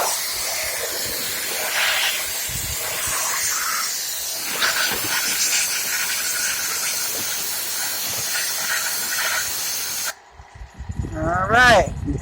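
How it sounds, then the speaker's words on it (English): WD-40 aerosol is sprayed into the bearings of a plastic Ridgid wet and dry vacuum, producing a steady close hiss that runs for several seconds, then stops before a short burst of speech. "Now I can also put a little WD-40 in the bearings."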